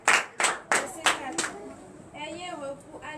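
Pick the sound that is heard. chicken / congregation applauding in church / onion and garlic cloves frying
congregation applauding in church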